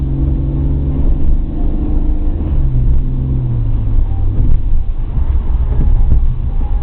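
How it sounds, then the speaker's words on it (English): A car accelerates, its engine giving a steady low rumble and drone heard from inside the cabin, growing slightly in pitch and sustained loud throughout without speech. "I'm accelerating right now."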